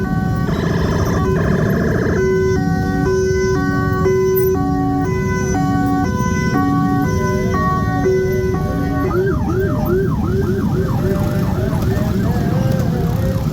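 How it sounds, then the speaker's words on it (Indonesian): An ambulance siren sweeps up and down loudly after a run of steady stepped tones, over a constant rumbling background near a railway level crossing at Citayam, Indonesia. "ada ambulan"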